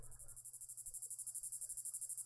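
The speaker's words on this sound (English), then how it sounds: "Why do our cicadas sound horrifying?" Cicadas buzz in a rapid pulsing trill, a steady series of high, even chirps, close and alone without voices.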